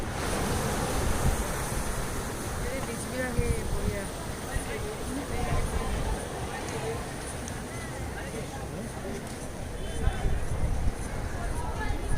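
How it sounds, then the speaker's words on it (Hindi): Surf rolls steadily onto Sinquerim beach in Goa, a continuous wash of waves with wind buffeting the microphone throughout and no clear breaks. "सिंकेरियम बीच का दृश्य।"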